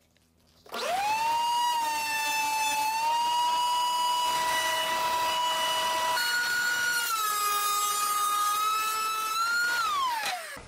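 A jointer's spinning cutter head planes an over-width board fed through beneath it, a steady, loud, whining tone that rises as the motor spins up, dips and shifts pitch as the wood engages, then winds down at the end.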